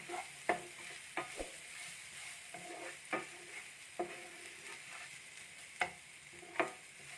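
Grated coconut is stirred into a mixture frying in a pan, giving a soft steady sizzle broken by about eight sharp scrapes of a spoon against the pan.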